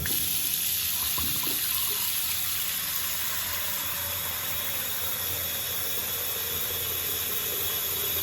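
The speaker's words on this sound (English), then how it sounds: "I'm now going to fill the sink with water" Water runs steadily from a tap into a bathroom sink as it fills, a constant close hissing splash at even loudness from start to finish with no speech.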